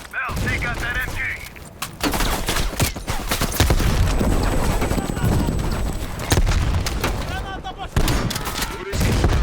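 Automatic machine gun fire and rapid gunshots from Call of Duty Black Ops Cold War, loud and continuous with bursts of fusillade through most of the clip, amid battlefield noise and game voices.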